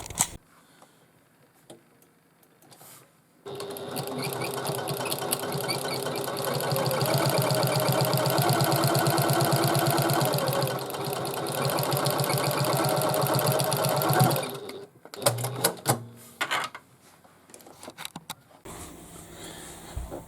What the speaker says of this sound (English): I'm just going to run this to the machine and literally just stitch across the top now that I've cut the